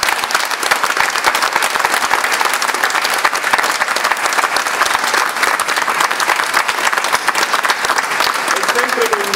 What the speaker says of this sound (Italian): Un applauso grande.